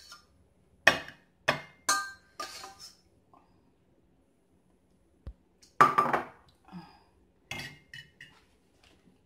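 Thick Korean spicy instant noodles, just briefly blanched, are placed onto a plate, giving a handful of scattered clinks and clatters of dishware with quiet pauses between them and no talking.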